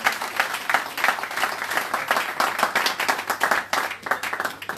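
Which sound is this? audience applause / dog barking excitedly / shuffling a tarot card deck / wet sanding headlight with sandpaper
audience applause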